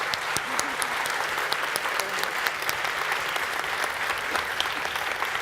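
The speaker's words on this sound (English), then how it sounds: "If I could ask you please for a round of applause for our panelists." A conference audience at European Development Days 2013 applauds its panelists, a steady, even wash of many hands clapping throughout, fairly distant and without talk.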